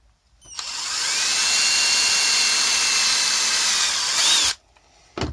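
A small power drill drives screws into the wall of a camper van in a single long, steady, loud whine that starts abruptly, holds for several seconds, then cuts off, with a brief burst right after.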